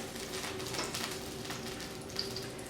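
Two garlic cloves sauteing in a pan over medium-low heat, giving a steady, soft sizzle and crackle with a few brief light pops, close by and with no talk.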